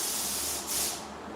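A spray blaster sprays water-based liquid in a steady, close, loud hiss that swells briefly midway, with no voices.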